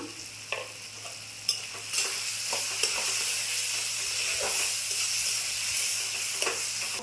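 A five-spice mix and cumin powder fry in a pan for vegetarian ghugni, with a continuous bright sizzle and occasional clicks of stirring.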